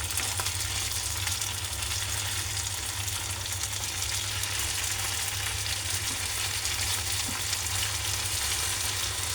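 Food sizzles and crackles steadily on a hot surface, a dense continuous fry with no voices.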